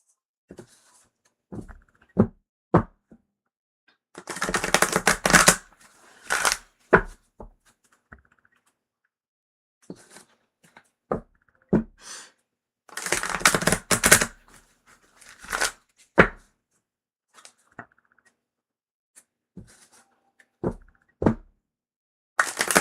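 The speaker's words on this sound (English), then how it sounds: "It just needs more shuffling." Tarot and oracle cards are shuffled by hand during a live reading, in two long dense bursts of riffling broken by sharp single taps and knocks of the deck, close and clear with no talking.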